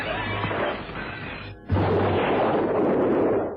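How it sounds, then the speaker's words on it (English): A parcel bomb explodes in a radio drama, a loud sustained roaring blast with crashing debris, dipping briefly before a second heavy burst that rumbles on and slowly fades. "The explosion rocked the room."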